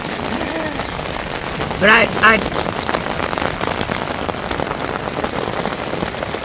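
Steady heavy rain drums on a tent during a thunderstorm at a campsite, a dense unbroken hiss close around the listener, with a brief voice rising over it partway through.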